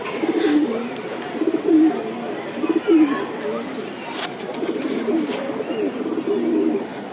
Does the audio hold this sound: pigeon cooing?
yes